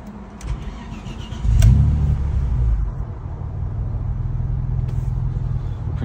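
An Audi B5 S4 running flex fuel on a plug-and-play ECU cranks briefly, catches with a rumbling surge, then settles into a steady, close, low idle burble that continues to the end.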